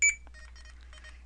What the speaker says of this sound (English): the barcode reader will beep a few times to let me know I'm done